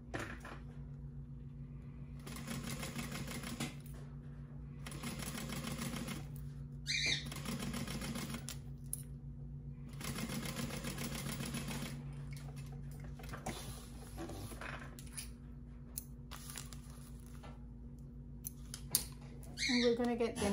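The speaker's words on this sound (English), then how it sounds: "So we're just gonna baste this piece into place." Sewing machine basting a fabric piece into place on a crossbody bag, running in several bursts of steady mechanical chatter separated by pauses, fairly close and moderately loud, with no talking.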